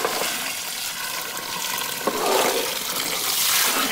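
Water is poured into a large village cooking pot of mutton and raw jackfruit gravy, making a close, steady rushing gush with a bubbling, sizzling undertone for a few seconds.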